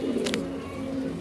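Native pigeons for sale give low, rolling coos that run continuously and fairly close, with a brief sharper rustle early on and no voices.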